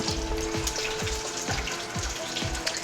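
Food pieces frying in deep, very hot oil in a pot, a steady close sizzle with soft bubbling and recurring low thumps as more pieces drop in, with no talking.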